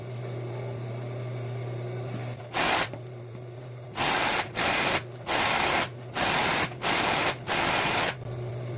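An overlock machine runs along a fabric edge in several short, loud whirring bursts separated by brief pauses, with a low steady hum between the runs.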